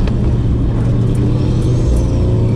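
Turbocharged Toyota GT86 show car on air suspension accelerating flat out, a loud continuous engine roar with heavy low rumble and rising tone, heard from inside without talking.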